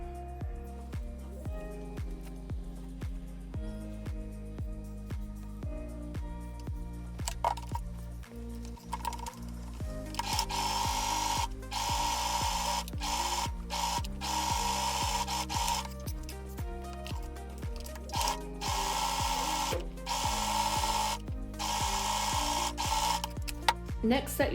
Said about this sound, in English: I'm going to stitch with a 1 centimeter seam allowance, and then I'm going to overlock the seam allowance